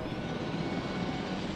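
Helicopter in Jurassic World Evolution, a continuous, steady rotor and engine roar that fills the whole moment at a constant loud level, with no talk.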